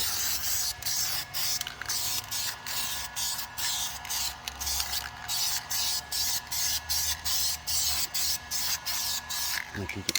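Aerosol paint sprayed in repeated short bursts over a car wheel's edges while repairing curb rash, each hiss starting and stopping in a steady rhythm, close and fairly loud.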